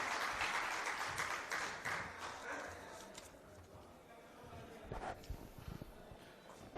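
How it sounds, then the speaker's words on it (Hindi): An audience at a Dewas civic awards event claps, with dense applause that is loud at the start and fades into scattered claps and a few louder strikes toward the end, at a moderate distance. "एक बार फिर से स्वागत और तालियां"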